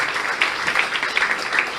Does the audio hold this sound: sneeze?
no